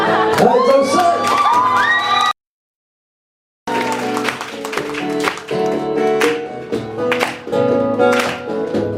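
Concert audience at a live show cheering, whooping and clapping loudly, a dense crowd roar that cuts out briefly partway and then resumes with scattered shouts over music.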